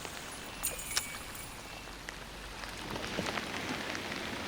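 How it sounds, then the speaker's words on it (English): Rain falling steadily on a river surface, a soft continuous hiss with scattered patters of drops, fairly faint and even throughout with no voices. "the rain just gives a certain amount of interference"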